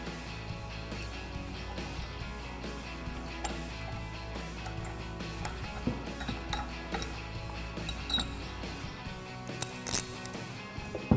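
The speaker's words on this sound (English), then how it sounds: "I found that a 4 millimeter Allen socket works for these bolts" A ratchet fitted with a 4 mm Allen socket turns the bolts of a Baja Designs roof light bar on a Ford Bronco, giving a quiet, steady run of fine mechanical clicks with a few sharper ticks.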